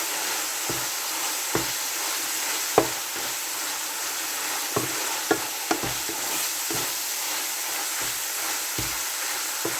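Food frying in oil in a pan, a steady sizzling hiss broken by repeated sharp scrapes and taps of a spatula stirring against the pan at irregular intervals.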